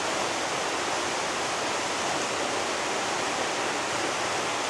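A mountain river in the cirque d'Estaubé in the Hautes-Pyrénées, its water rushing in a constant loud broadband roar without pause, close by, with no voices.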